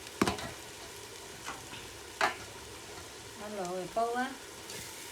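Cumin seeds dropped into hot oil in a pan over a wood-fired clay stove while making poha with potatoes, giving a faint steady sizzle broken by a few sharp clatters and clinks.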